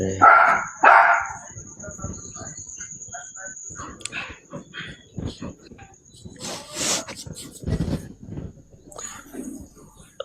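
A dog gives a couple of sharp barks at the start, then people talk for the rest, with other faint background sounds.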